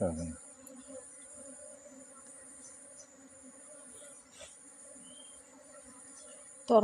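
A swarm of honeybees clusters on a tree branch and is being caught into a box. It gives off a faint, steady buzzing drone throughout, with brief voices at the very start and end.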